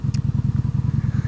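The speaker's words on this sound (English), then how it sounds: "So the exhaust as well is not mind-shatteringly loud." Motorcycle exhaust heard while riding, a steady low pulsing thrum with rapid regular beats, moderately loud and close, with no talking.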